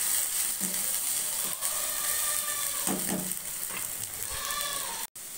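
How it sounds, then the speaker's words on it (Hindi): Onion paste frying in a pan for a creamy mustard handi gravy, a steady close sizzle running throughout with a few soft stirring scrapes and one brief dropout near the end. "हम प्याज को भूनना है"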